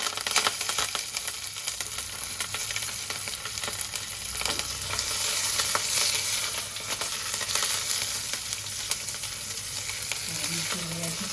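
Green chillies and curry leaves frying in oil with garam masala for a moong sprouts pulao, giving a steady close sizzle with occasional stirring scrapes, no talking.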